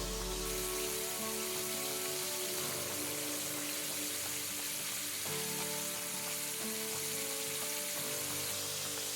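Buttermilk chicken fingers fry in hot oil with a dense, continuous sizzle and crackle that stays loud and steady throughout, with no talking.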